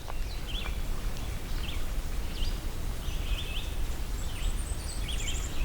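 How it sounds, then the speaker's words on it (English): A Blackburnian warbler sings thin, very high-pitched phrases several times from a tall dead tree, faint and distant over a steady background hiss in a swamp. "Blackburnian warbler."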